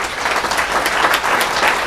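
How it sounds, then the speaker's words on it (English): Audience at a school May breakfast gathering applauding, a dense burst of clapping from a room full of people that holds steady throughout. "let's give a big round of applause for Steve Nilsen"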